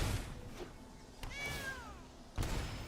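A cartoon cat meows in the Magic: The Gathering Arena card game, one clear rising and falling meow mid-clip over faint game ambience, with soft thuds before and after.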